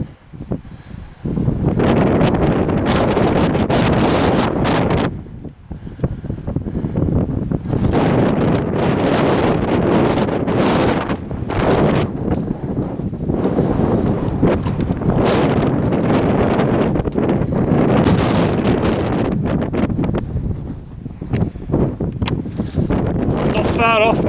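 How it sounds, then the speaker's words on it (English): Strong, steady wind buffets the microphone on a steep wooded hillside at Coed Moel Famau, a loud continuous roar that barely lets up, with a person talking over it. "Bloody wind!"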